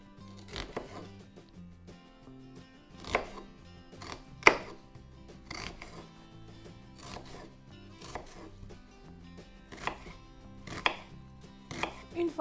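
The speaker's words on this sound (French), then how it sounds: "On va commencer par émincer finement 3 oignons" A knife finely chops onions on a cutting board in irregular bursts of quick, crisp taps, close and moderately loud, with brief pauses between runs.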